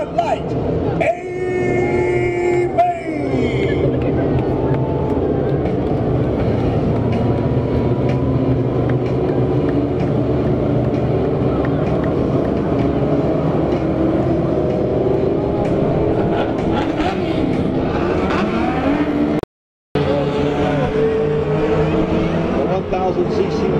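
Mod Lite race cars starting an A-main at 81 Speedway, a loud, steady mass of engine roar that builds and holds as the field comes around, with an announcer talking over it throughout.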